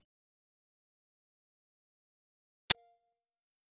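A single sharp notification ding from a video game rings out once after near silence, bright and brief with a short decaying tail.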